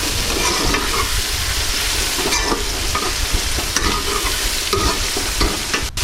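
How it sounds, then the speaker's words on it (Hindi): Tomatoes, green chillies and spices for restaurant-style daal mash frying in a pan while being stirred vigorously, a loud constant sizzle with repeated spatula scrapes close up and no voices. "थोड़ा सा भूनेंगे।"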